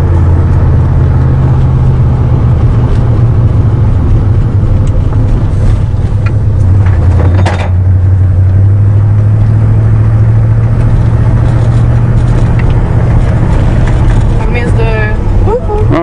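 An old Cadillac hearse's engine running steadily and driving after a cold start, a loud continuous low drone with a shift in pitch partway through, under people talking.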